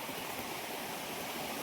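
A mountain stream rushes and gurgles over rocks in a steady, unbroken wash of water noise, close and moderately loud, with no voices.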